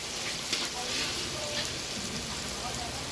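Onion paste sautéing in a pan gives a steady close sizzle and crackle throughout, with faint voices in the background.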